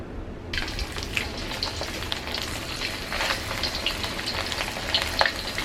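Beef pieces frying in a hot wok in small batches for Mongolian beef produce a dense, continuous crackling sizzle that stays loud and even throughout.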